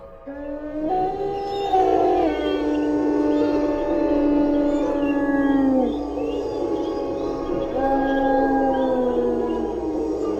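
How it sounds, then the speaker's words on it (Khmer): Several village dogs howl together after dark, their long wavering cries overlapping and rising and falling in pitch, loud and sustained, with one voice fading out and another starting near the end. "ទៅឆ្កែក៏ចាប់ផ្ដើមលូបន្តគ្នាពេញភូមិតែម្ដង"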